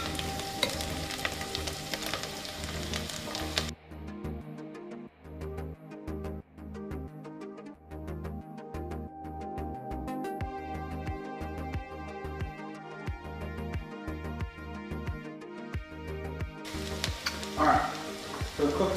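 Shallots, garlic and thyme sauté in a pan for mushroom risotto, giving a loud steady sizzle with stirring and scraping, dipping quieter in the middle while faint music plays in the background.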